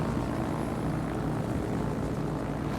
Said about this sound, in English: You're approaching the Alabama head-on in your torpedo bombers